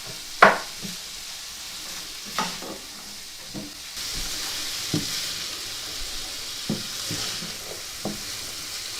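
Vegetables and onions soften in a pan over medium heat, giving a steady low sizzle with scattered clicks and scrapes of stirring, close by and without talk.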